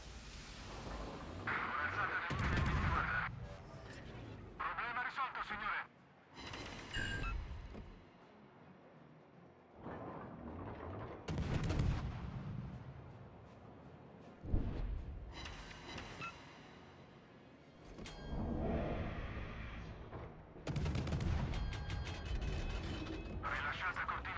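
Naval gunfire from the Italian warship Leone in the game World of Warships, with repeated heavy booming salvos and mechanical turret clanks at uneven intervals, some bursts loud and close, set against a lower steady game hum.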